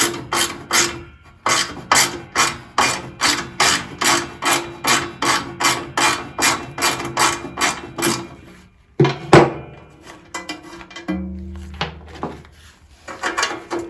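Removing the cover from a Westwood shredder gives about eight seconds of steady, rhythmic rasping strokes at close range, like a ratchet working a fastener, followed by a few sharp metallic clunks and knocks.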